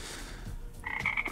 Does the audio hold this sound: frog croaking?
yes